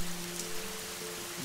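Heavy rain pours steadily onto a surface, a dense even hiss with a low tonal hum running beneath it, no voices.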